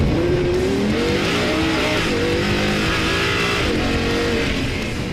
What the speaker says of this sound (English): floor the throttle, then release the brake.